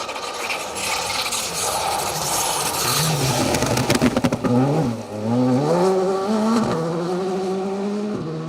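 A Skoda rally car, crewed by William Patterson and Tom Hind, drives a forest stage of the 2024 Malcolm Wilson Rally. Its engine note rises and falls loudly through gear changes. Harsh gravel and rasping noise runs continuously beneath it.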